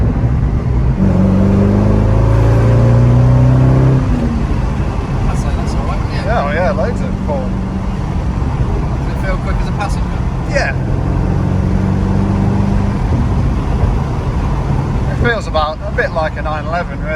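A manual Corvette C5 with an LS1 V8 pulls steadily uphill in third gear, its engine drone loud and continuous while people talk over it throughout.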